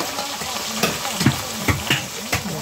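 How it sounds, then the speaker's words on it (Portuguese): Fish laid into a hot pan sizzle and crackle steadily, with several sharper spits and pops standing out over the frying hiss as the pieces settle. "Elas vão fritar."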